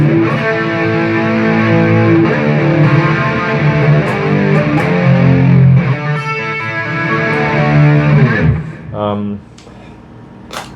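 Heavily distorted electric guitar through a BOSS GT-8 effects processor, playing sustained, buzzing chords with a thick, saturated tone, then a pause and a few softer notes near the end.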